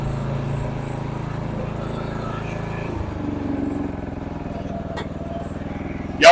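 An old Simplicity rear-engine lawnmower, left sitting for 32 years, runs at a steady close idle with a low chugging engine drone. The pitch shifts slightly partway through, and there is a short louder bump at the very end.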